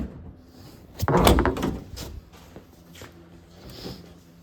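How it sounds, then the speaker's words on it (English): A fiberglass door on a Fox body Mustang is opened in a workshop, giving a sharp mechanical latch clack followed by a short rattling swing, then a few faint clicks and taps. "When you see the body line lines up really good, and I'll open the door here."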